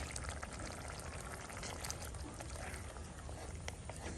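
Egg kheema masala gravy at a rolling boil in a pan, a faint, continuous bubbling with no clear breaks.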